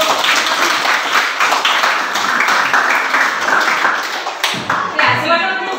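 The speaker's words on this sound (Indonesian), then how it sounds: "kita berikan tepuk tangan untuk" Classroom audience clapping during a coaching and academic supervision session, a dense steady patter of many hands sustained throughout, with a brief dip near the end and faint voices underneath.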